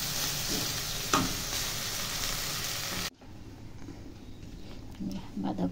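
Food frying in a home kitchen pan makes a constant loud sizzle that suddenly drops away, leaving quieter room sound with faint clinks and movement.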